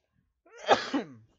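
A single short human sneeze that turns into a cough, a close burst of two quick explosive pulses in an otherwise quiet room.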